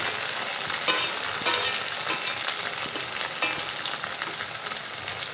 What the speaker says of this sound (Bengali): লবণ দিয়ে একটু নেড়ে চেড়ে নিলাম লবণ আলুর সঙ্গে ভালোভাবে মিশিয়ে নিলাম